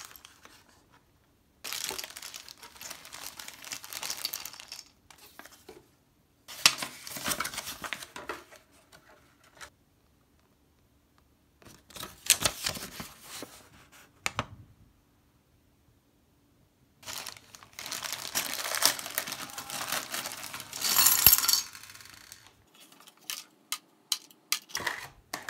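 Wires and a self-tapping insulation-piercing connector handled while making a practice splice: bursts of crinkly rustling, clicking and fiddling, separated by quiet pauses, close and fairly soft.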